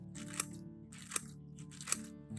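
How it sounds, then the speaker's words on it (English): Sharpened scissors snip through a thin plastic bag in three quick, crisp cuts, evenly spaced and fairly quiet, with no talk. "Now let's test the sharpness of the scissors. Cut the plastic bag."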